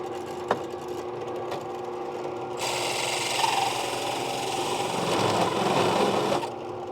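A machine cuts slowly through metal with coolant flowing, part of a Charger restoration, giving a steady whirring grind that grows louder and denser partway through, then drops back near the end.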